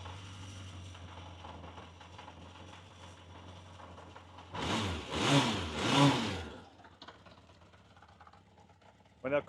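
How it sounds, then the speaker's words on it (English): A cold Honda Bol d'Or CB900 F2 motorcycle engine idles at low RPM, a steady near rumble that is briefly covered by a louder burst of noise midway before settling back. "Engine is still pretty cold, so it's a bit low in RPM now."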